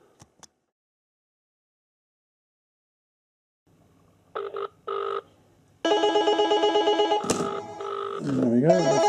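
A GT88 smartwatch places an outgoing call: faint taps, then short bursts of ring tone, then a steady loud electronic ringing melody. A voice comes in near the end.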